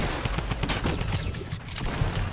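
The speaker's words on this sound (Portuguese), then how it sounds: "É, eu dei tiro." Rapid bursts of gunfire crackle continuously in Fortnite, dense and loud, like a firefight in a game.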